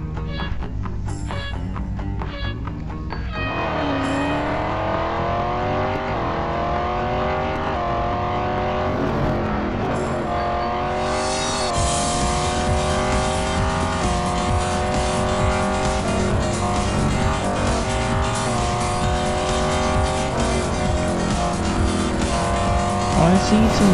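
Aston Martin Vantage AMR Pro racing an autocross in Real Racing 3, engine revving hard through rising and falling gear pulls with tire squeal, loud and continuous after a brief quieter start.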